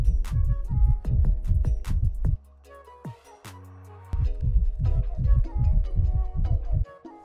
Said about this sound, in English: There have also been some leaked sound files of the egg, and it sounds a lot like a heartbeat.